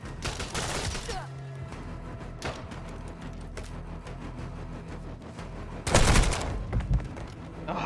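Gunfire in the Call of Duty video game, with bursts of rapid shots early on, scattered single cracks through the middle and a loud dense volley near the end over steady game background noise.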